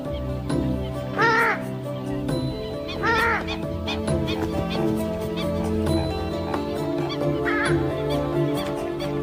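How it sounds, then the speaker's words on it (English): Loud, harsh honking calls from a purple swamphen burst out several times, with other bird calls and a busy chorus behind them. "This is the purple swamp hen, also called the sultana bird, famed for its very loud,"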